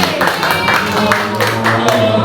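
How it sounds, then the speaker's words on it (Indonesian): Small audience of children and adults in an Indonesian classroom clapping together after a presentation; a loud, close burst of uneven hand claps over about two seconds, with some voices mixed in. "beri tepuk tangan untuk kami"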